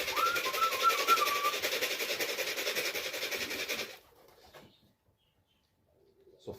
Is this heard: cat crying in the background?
no